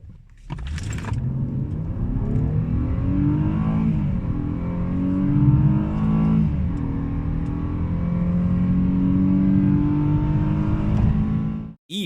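Mercedes W212 E-Class with the M272 petrol engine accelerating hard from standstill toward 100 km/h, engine note climbing steadily through rising gear pulls with brief shift dips, loud and close from inside the car, ending abruptly.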